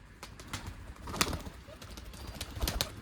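Pigeons coo softly inside a small backyard pigeon coop, quiet and fairly distant, broken by a few sharp clicks and brief wing flutters.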